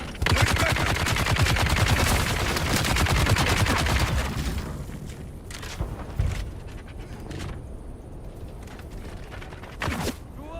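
Rapid automatic gunfire from a Dune Awakening firefight, loud and dense bursts for several seconds, then thinning to scattered single shots and sharp cracks with quieter gaps.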